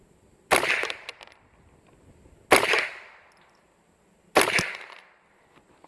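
.22LR rifle firing CCI Copper ammunition at a target 30 feet away: three sharp, loud cracks about two seconds apart, each trailing off in a short echo, with no voices.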